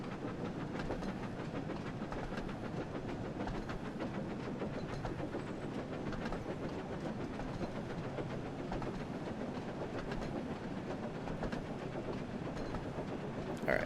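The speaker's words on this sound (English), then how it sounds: "I don't remember Annie and Clarabelle clunking around so much last time." Steady rattling clatter of coaches Annie and Clarabelle clunking along the rails behind Thomas in the Thomas & Friends: Wonders of Sodor game, a continuous dense rumble with fine clicks throughout, no talking.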